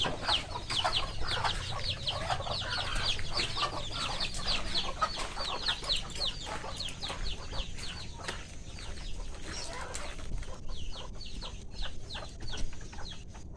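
Several chickens cluck and chatter continuously nearby, busy overlapping calls over a faint outdoor background, with no one talking.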